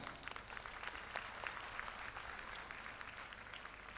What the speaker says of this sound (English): I request you to give yourself a big applause for that.